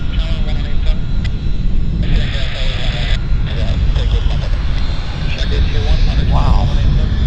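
A Falcon 50 EX business jet with winglets at Vancouver airport produces a steady, loud engine roar and rumble throughout, while people talk over it.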